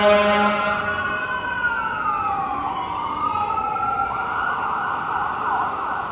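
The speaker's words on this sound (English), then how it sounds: "It looks like a fire truck." A fire truck siren wailing along Main Street in Vancouver's Mount Pleasant area, loud and close, sweeping up and down in long continuous tones over city traffic rumble, without talk.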